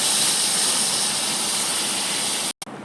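Water hits a hot pan of Tamil banana gravy cooking with onion, curry leaves, ginger-garlic paste, tomato and spices, giving a steady loud sizzling hiss that cuts off abruptly near the end.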